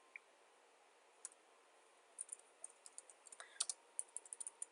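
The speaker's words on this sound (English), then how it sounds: "I have space to put in the name of the kit, so I can type that in." Soft keyboard typing, sparse at first and then a quicker run of light clicks, close but faint against a quiet room, with no talking.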